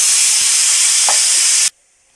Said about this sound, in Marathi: हे खोबरं बारीक करून घेते मिक्सरला